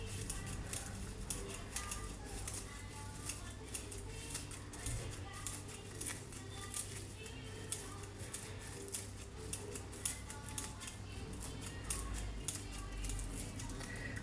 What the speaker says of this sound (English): I always use scissors, I think it's easier.